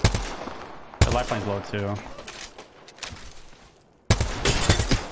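A gold G7 Scout rifle with a double-tap mod fires in Apex Legends, giving sharp gunshots and rapid bursts with crackling impacts, while players talk over the shooting.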